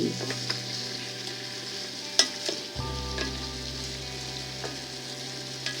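Mixed vegetables stir-fried in oil with chopsticks for Japanese nimono with chicken, a steady sizzle with occasional light clicks and scrapes, a low hum joining partway, no talk.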